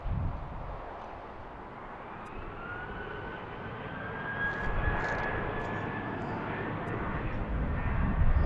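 A fixed-wing airplane takes off at BWI airport. Its engine roar rises steadily and grows louder toward the end, heard from a distance against a broad rushing background.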